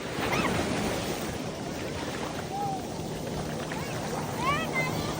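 Large sea waves break and wash along Malvan beach in a continuous surging roar with some wind buffeting the microphone, while faint voices and a brief call or two sound in the background.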